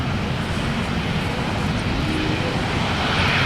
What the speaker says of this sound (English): Engines spool up.